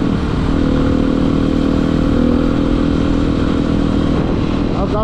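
A 701 motorcycle engine runs loud and close in a continuous steady drone, with no clear break over several seconds.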